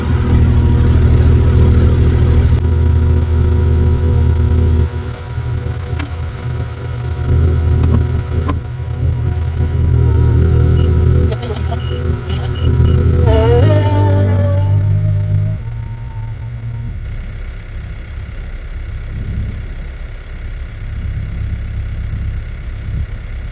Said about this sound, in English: Tractor moves.